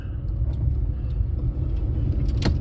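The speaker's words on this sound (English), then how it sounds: "Driving home from work." A car pulls out of a parking garage with a low steady engine rumble and road noise inside the cabin, plus a brief faint rattle near the end.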